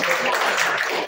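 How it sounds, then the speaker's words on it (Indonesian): A church congregation breaks into dense, steady applause, many hands clapping together in a brief continuous burst. "Tepuk tangan buat Tuhan."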